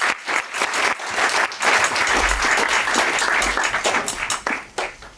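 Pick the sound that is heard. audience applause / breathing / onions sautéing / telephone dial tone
audience applause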